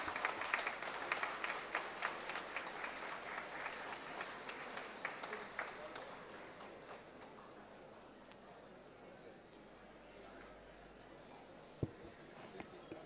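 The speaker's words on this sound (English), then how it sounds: "Let's have a huge round of applause to this brilliant display of creativity and innovation." Sustained audience applause at a university festival inauguration ceremony, steady dense clapping that gradually thins out, loud and filling the hall, with no talking over it.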